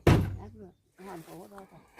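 A door is pulled shut with one loud, close thunk at the very start, then quiet speech follows.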